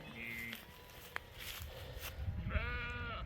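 Sheep bleating outdoors in a French field, several drawn-out, wavering calls close by, some overlapping, over faint background noise.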